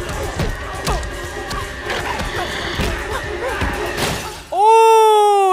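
A person crashes through glass in a TV drama, the shattering impact heard amid fight noise and rustling, followed by a loud sustained sweeping tone at the end.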